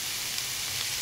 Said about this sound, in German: Das Ganze wird auch noch kurz einmal angeschwitzt.